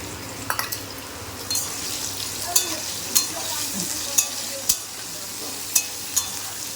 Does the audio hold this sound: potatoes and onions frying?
yes